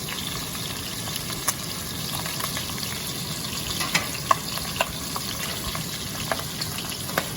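Chicken pieces fry for chicken chasseur in a pan, giving a steady, even sizzle throughout with a few faint clicks and taps from the pan on top.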